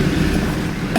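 A low-mileage Oldsmobile Toronado's 455 V8 idles with a steady, deep rumble through mufflers that still hold most of their packing. The sound is close and continuous, with no talk over it.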